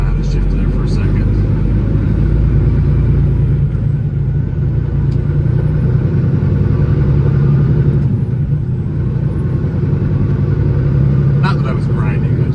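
Deep, steady rumble of a semi truck engine heard from inside the cab while driving and changing gears, a loud low drone that stays constant with faint shifts in tone and someone talking over it.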